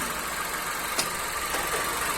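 An idling 2014 Audi/Golf with a DSG gearbox, a steady close engine hum with small faint clicks and ticks from a noisy clutch and flywheel system, no talking.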